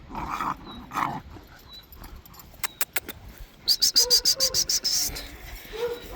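Two adult Anatolian Shepherd dogs scuffle, with a few sharp barks and snarls early on, then a rapid run of loud, clipped barks in the middle; crickets chirp faintly in the background.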